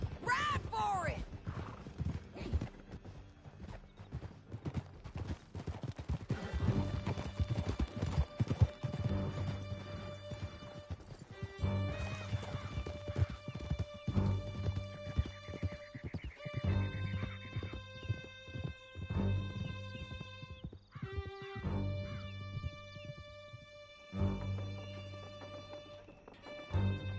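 Horses gallop in a video game, hooves drumming in a fast rhythmic clatter with an occasional whinny, layered over music and bursts of character dialogue.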